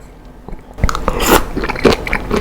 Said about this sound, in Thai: กุ้งกรอบเหมือนเคี้ยวน้ำแข็งอะ